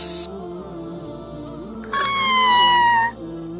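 A cartoon cat gives one loud, drawn-out meow partway through, heard up close over a steady tonal background with no talking.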